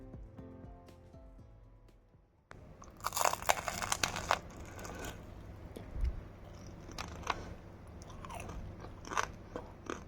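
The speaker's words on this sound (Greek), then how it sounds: "Ο ήχος όταν τρως το πρώτο κομμάτι στο στόμα σου σε κάθε δαγκωματιά" A close, crisp crunch of biting into homemade pie crust, with sharp crackling bursts and then softer chewing crunches, no voices.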